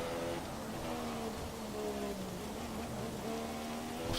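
Rain falls during a Canadian Grand Prix race in the F1 2017 video game, a dense, even hiss of rainfall over a low hum of race car engines, steady throughout with no speech.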